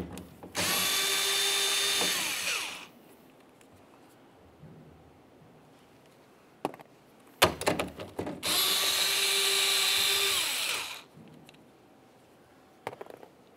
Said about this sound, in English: we'll be using a 10 millimeter to release each one of these.